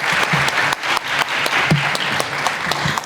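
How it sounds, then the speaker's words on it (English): An audience at a community Martin Luther King event applauds the MCs, with dense, steady clapping from a crowd throughout, loud and fairly close, with no speech over it. "Can we just get a round of applause for those MCs?"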